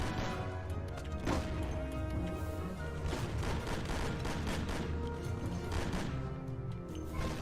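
Colt pistol in Mafia fired in rapid succession using a rapid-fire glitch, a dense, continuous barrage of loud sharp shots with no gaps, set over a steady background of game sound.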